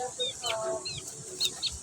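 A pet chicken named Tam gives several short, high clucks and chirps close by, scattered through the moment with a brief pause between bursts, over faint background noise.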